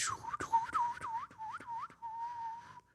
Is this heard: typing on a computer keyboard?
no